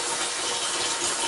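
Steady broadband rush of cold water pouring from a tap to fill a cider-kit container, continuous and fairly close, with no voices.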